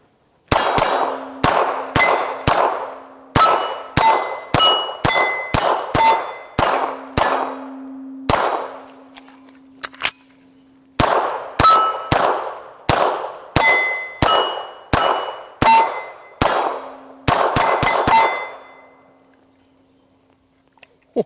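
Pistol shots from an HK USP Compact 9mm ring off steel targets in quick series, each sharp crack followed by a bright metallic clang that rings on, with short pauses between strings of shots.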